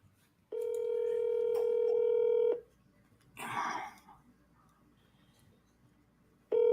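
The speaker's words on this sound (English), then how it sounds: "Calling Jersey. Mobile. Mobile" Touch-tone telephone keypad tones sounding during a call, a long steady dial tone for about two seconds, then a brief burst of noise and the start of another tone, clear and close with no talk.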